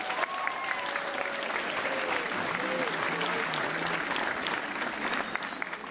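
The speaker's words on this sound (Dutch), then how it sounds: "Als eerst een applaus voor de conciërges en voor de feestcommissie." A school song festival audience claps for the caretakers and party committee, a broad, sustained round of applause with a few voices and tonal sounds from the hall mixed faintly in.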